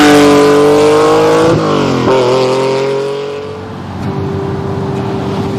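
Lamborghini Countach V12 engine revving hard and accelerating, loud and close, with rising harmonic pitch sweeps, a brief gear-change dip, then a steady rougher drone; no talk.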